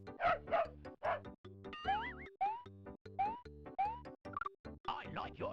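Cartoonish sound effects from a sound-matching picture game, with a bark-like cartoon dog cue among boings and sliding whistle tones, played as a rapid sequence of short, loud bursts with no talk over them.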